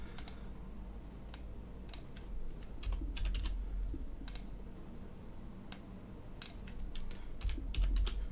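Computer keyboard typing, close and fairly quiet, with irregular bursts of crisp key clicks spread throughout and no talking.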